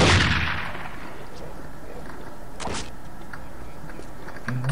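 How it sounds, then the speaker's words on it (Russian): Explosions in the video game Postal 2: a heavy booming blast at the start that decays slowly, then a second sharp burst midway, over a constant noisy game background. "Взрываются!"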